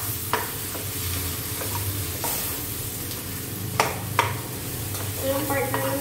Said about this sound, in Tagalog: I will add this one, the kimchi, and then I will mix it.